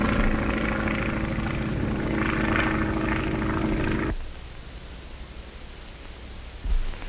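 A P-26A pursuit plane drones loudly with a steady propeller and engine roar that cuts off abruptly partway through, leaving a quieter hiss and a brief bump near the end.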